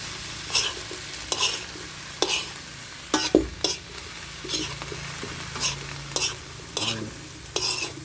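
Eggplant fries in a pan under a soft, steady sizzle, while a utensil stirs it in repeated scraping strokes about once a second, close and fairly quiet.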